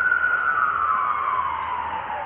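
Ambulance siren wailing steadily and fairly loud throughout, its pitch sliding gradually downward as it passes at a police scene in Las Vegas.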